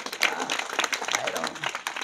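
Audience applause at a Marathi kirtan devotional gathering, a dense steady wash of many hands clapping throughout, with a voice faintly audible beneath.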